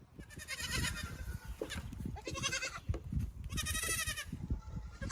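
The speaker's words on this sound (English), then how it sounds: "these are goats." Several goats bleat in repeated, wavering calls that rise over a steady background murmur, close and fairly loud, with three distinct bursts across the stretch.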